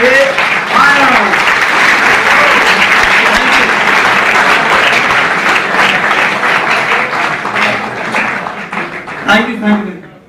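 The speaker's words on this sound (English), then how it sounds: "let's welcome with a huge round of applause Mr. S A Anand" A large audience gives loud, sustained applause to welcome a public speaker and corporate trainer to the stage, with crowd noise and a few voices underneath before the clapping fades near the end.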